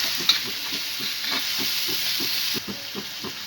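Spice masala with turmeric roasting in oil for pithla, a hissing sizzle with steady rhythmic stirring scrapes against the pan, heard close.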